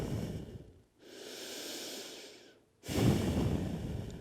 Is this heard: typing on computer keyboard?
no